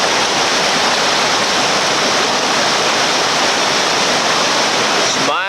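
Whitewater rapids on a West Virginia river roar and splash in a dense, loud, continuous rush as a raft hits a big hydraulic hole, with no talking.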